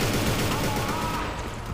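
Gunfire in the shooter Inversion fills the whole moment as a dense, steady stream of rapid shots, loud and close, with a speaking voice faintly underneath.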